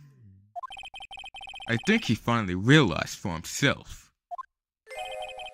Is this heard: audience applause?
no